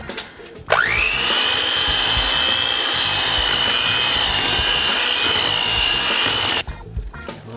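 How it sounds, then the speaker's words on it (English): An electric beater mixes oatmeal raisin cookie dough, its motor kicking in with a rising whine and holding a loud, steady buzzing drone for about six seconds before cutting off. "I'm probably sure they're flying everywhere with the beater."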